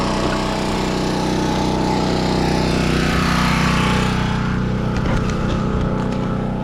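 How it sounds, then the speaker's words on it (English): A portable generator engine runs steadily while warming up at a mobile welding job, a loud, close, continuous drone with faint clatter near the end and no voices. "let's let that generator warm up"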